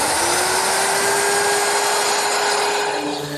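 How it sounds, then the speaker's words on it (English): A router fitted with a 1/4-inch radius roundover bit eases the corners of wooden parts for a garden armchair, a loud, continuous high whine with a steady motor tone running throughout, close up and with no talk. "With a 1/4-inch radius roundover bit, I'm easing any corners that might be exposed."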